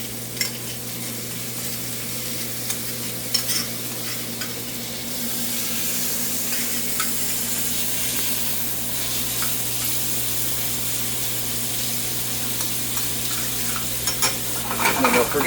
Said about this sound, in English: Now we can see some of that fat starting to render out. So we can give it a little stir.